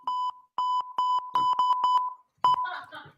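A series of clean electronic beeps sounds in short and longer bursts with uneven gaps, fairly loud and close, before brief voices at the end.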